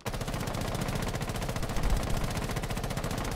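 The R4C assault rifle in Rainbow Six Siege, fitted with an extended barrel and angled grip, fires in one continuous full-auto burst, loud, close and steady for over three seconds.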